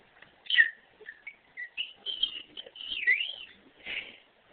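A pet bird makes a run of squeaky, chirping calls and warbles, several short bursts and gliding notes, close and fairly quiet with brief pauses between them.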